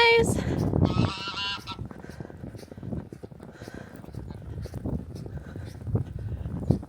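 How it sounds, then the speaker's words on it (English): Domestic geese honking in a loud cluster at the start on a farm during the first big snowfall, followed by scattered nearby honks and footsteps, with a little quiet talk. "Alright, let's go check out the geese."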